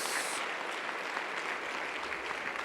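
A church congregation applauds during a Sunday service, a moderately loud, even wash of clapping that holds steady for the whole stretch.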